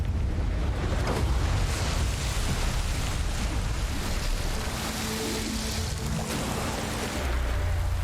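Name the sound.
wind over the sea in video game God of War Ragnarök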